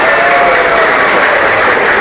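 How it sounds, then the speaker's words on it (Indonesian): Loud, dense audience applause fills a leadership training session at Halogen Hotel Surabaya, sustained throughout without a break. "Tepuk tangan yang keras untuk Anda"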